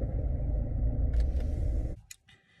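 Steady low rumble of a car's engine and road noise heard from inside the cabin while driving, which cuts off abruptly near the end, leaving a few faint clicks and rustles.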